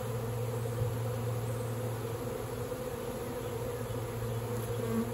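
A swarm of more than 70,000 honeybees makes a steady, dense buzz that fills the whole stretch, close and even in level with no talk over it.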